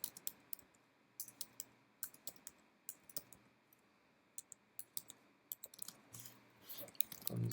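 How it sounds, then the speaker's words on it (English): Someone types on a computer keyboard in irregular, clumsy bursts of sharp clicks, faint and close in an otherwise quiet room. "Clumsy typing there."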